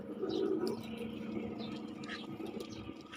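Pet pigeons kept in a loft coo softly in low, rolling murmurs, with scattered light chirps and rustling over a steady background of birds, fairly faint and continuous throughout.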